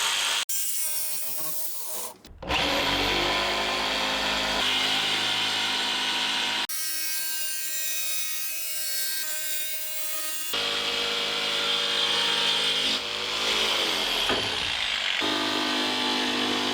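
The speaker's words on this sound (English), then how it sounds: "I'm using a fine-tooth sheet metal blade." A power saw fitted with a fine-tooth sheet metal blade cuts through sheet metal on a Tacoma truck upgrade. It gives loud, sustained whining bursts with a harsh metallic buzz and briefly stops partway through.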